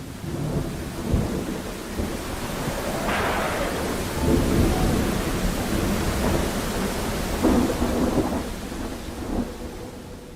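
A thunderstorm with steady, dense rain throughout, broken by several deep rolling thunder rumbles, close and loud, with no voices.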